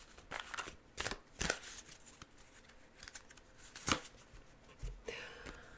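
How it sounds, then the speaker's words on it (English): Tarot cards are shuffled in quick, crisp riffles and soft slaps, arriving in several short bursts with brief pauses between them, close and fairly quiet. "Let's pull some clarifiers for Capricorn."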